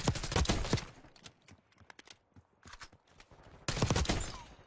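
Video game gunfire crackles in loud rapid bursts, a dense volley at the start and another near the end, with scattered single shots and quieter gaps between.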